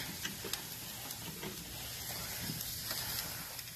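A bone-in rib eye steak searing on a hot grill gives a continuous loud sizzle and hiss with scattered crackles and pops, close up, with no talking.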